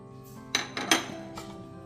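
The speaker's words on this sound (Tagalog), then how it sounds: "Paghalo-haluin lang natin yan" Blanched vegetables are tossed with tomato and onion in a bowl, giving a few clinks and scrapes of utensils against dishware over a low background hum, with no talking.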